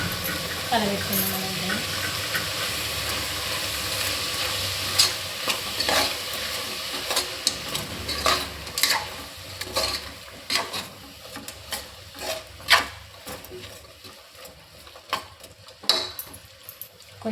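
A paste of coconut, garlic, onion and tomato is stirred in a hot pan, giving a steady sizzle with repeated scraping strokes that become sharper and more distinct toward the end.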